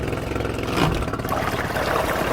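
An outboard engine runs steadily in a water barrel, its loud low drone shifting slightly as it is eased gently into gear partway through.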